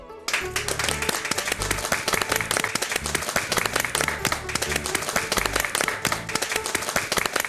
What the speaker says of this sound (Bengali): আসুন আমরা সবাই মিলে ডক্টর মৈত্রের সেই ফাইটিং স্পিরিটটাকে হাততালি দিয়ে সম্মান জানাই।